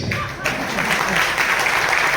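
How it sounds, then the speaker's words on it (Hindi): Steady applause from an audience, a dense crowd of clapping hands sustained throughout at a fairly loud level. "जोरदार तालियां बजा सकते हैं आप अपने लिए"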